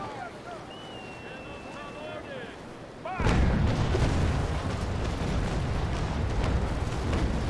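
Cannon fire aimed at a trading ship in the naval combat video game Naval Action: after quieter sea and rigging ambience, a loud roaring broadside bursts in and rolls on with wind and water noise.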